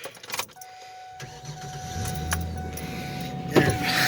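A cheap roadworthy truck engine is started with the key: a few clicks and jangles, a whining crank, then the engine catches into a low idle with a faint tone and a bump, close inside the cab.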